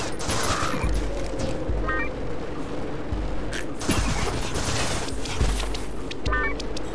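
Rapid automatic gunfire from a watermelon-shaped AK rifle in the colorful roguelike game Juicy Realm, loud repeated bursts of cracking shots with short gaps between volleys, no talking.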